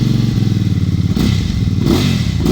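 A Benda Chinchilla 450 motorcycle engine idles close by with a steady, loud, throbbing pulse that briefly swells as it is revved.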